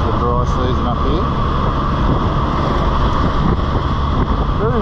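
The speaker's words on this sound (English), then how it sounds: "Very windy though. Probably hear it whistling across the windscreen." Strong wind roars and whistles steadily across the windscreen of a Can-Am Spyder on an outback road between Mount Isa and Julia Creek in the dry season, a loud continuous rush with no break.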